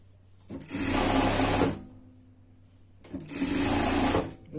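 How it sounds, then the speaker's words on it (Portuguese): A sewing machine stitches fabric for a camping bed in two loud, close runs of rapid mechanical whirring, each about a second and a half long, separated by a short pause. "E aqui, você vai seguir costurando."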